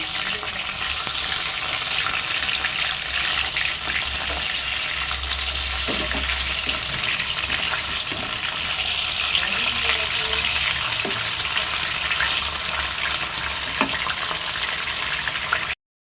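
Rupchanda (pomfret) fish crackling and spluttering in hot oil, a dense, loud, continuous sizzle with scattered sharp pops throughout.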